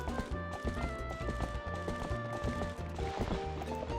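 A horse gallops in Zelda: Twilight Princess on the Wii, its hooves clip-clopping in a quick, steady rhythm over game music, with a brief neigh near the end.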